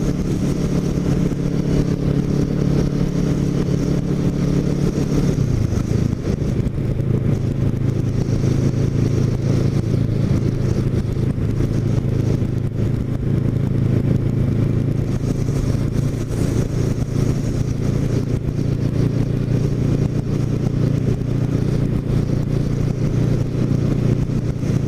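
A Kawasaki Ninja motorcycle drones steadily while riding on a mild spring day near Cape May, a loud continuous engine note with one brief pitch drop as it shifts, wind noise throughout.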